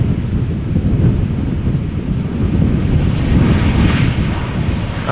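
An Airbus A320neo lands in gusty crosswind at Amsterdam Schiphol, its engine roar steady and loud, mixed with heavy wind rumble across the microphone.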